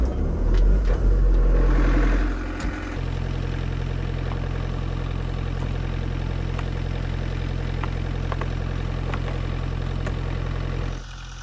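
Toolcat utility vehicle fitted with tire chains, running steadily for snow blowing; a low, even engine drone holds throughout, with a rougher, louder burst in the first few seconds before settling.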